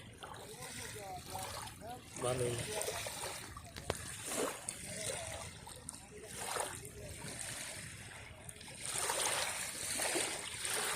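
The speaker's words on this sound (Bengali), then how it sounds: "এগুলো সবই নদীর ঢেউয়ের শব্দ" River waves washing onto a pebble-and-shell shore at low tide, steady splashing and sloshing water close by, with a person talking over it at times.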